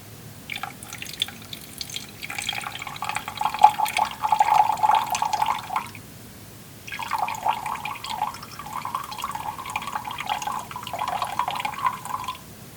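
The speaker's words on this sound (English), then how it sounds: "now we'll want to add enough water to once again have a total of 100 grams." Water poured into a lab solution mixture to bring it to 100 grams, a light trickling stream in two stretches separated by a brief pause, close and fairly faint.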